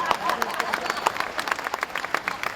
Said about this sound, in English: By applause, how many people have had the joy of this experience?